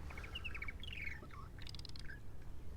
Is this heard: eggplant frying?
no